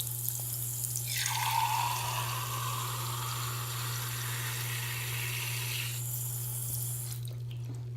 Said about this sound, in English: let's add a little bit more water and see where that water will go.